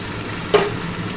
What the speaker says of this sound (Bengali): সব মশলা ভালো করে আমি কষিয়ে নেব